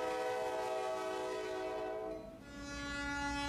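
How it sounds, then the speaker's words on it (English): A Delta Southern short line freight train hauling tank cars sounds its horn in long, steady chords that shift pitch partway through, over a low rolling rumble of the train, with no voices. "the Delta Southern Short Line Railroad creeps its way northward after picking up some tank cars from its interchange"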